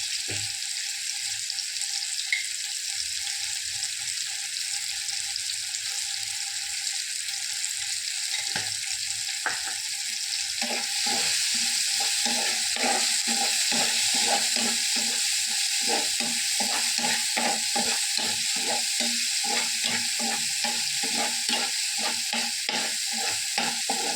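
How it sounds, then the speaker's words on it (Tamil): Tomatoes sautéing in oil in a pan hiss and sizzle steadily, with rapid, repeated stirring scrapes that grow busier partway through, loud and close with no talking. "தக்காளி நல்லா எண்ணெயில் வதங்கி வந்துடுச்சு"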